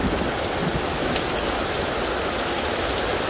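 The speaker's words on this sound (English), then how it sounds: "Thunderstorms we know well, but this is a little bit more than that." Heavy Florida thunderstorm rain pours down in a loud, dense, unbroken roar of drops hitting surfaces nearby, steady throughout with no voices.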